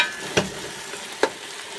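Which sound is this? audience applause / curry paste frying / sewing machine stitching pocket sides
curry paste frying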